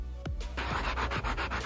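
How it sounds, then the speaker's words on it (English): A small, light sanding block rubs back and forth over a painted leather chair, giving soft, close scratchy strokes that repeat in a quick, even rhythm. "I'm gonna simply use this little sanding block"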